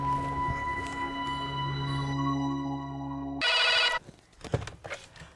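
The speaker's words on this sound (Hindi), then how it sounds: "मैं अभी उसके बाप को फोन करता हूँ" A phone rings with a steady electronic tone in a TV crime drama, then a short burst of a different ring cuts in before fading into soft clicks and handling noises.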